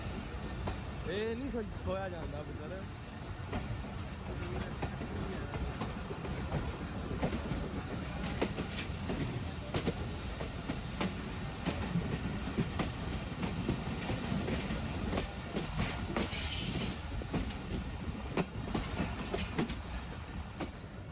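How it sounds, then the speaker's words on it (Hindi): The Pakistan Express pulls away from Hafizabad platform 1 on the Wazirabad–Khanewal branch line, with a steady rumble of the rolling train and repeated clicks and clacks from the rails, heard from inside over a long continuous stretch. "हाफिज़ाबाद प्लेटफार्म नंबर 1 से ट्रेन मूव हो चुकी है।"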